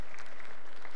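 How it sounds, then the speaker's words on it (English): Brief burst of audience applause at a Sunday morning contemporary worship service, a short dense patter of clapping filling the room for about a second. "So round of applause for that"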